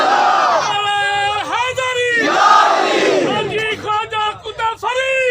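A large gathered crowd chants a religious slogan in unison, loud rising and falling voiced shouts repeating in waves, close and powerful, with some ragged calls toward the end.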